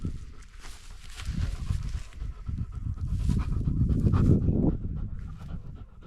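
A dog pants steadily and close by in an outdoor mountain setting on a trek near a refuge in the Clarée valley, quick rhythmic breaths with some shuffling movement underneath, fairly quiet and without talk.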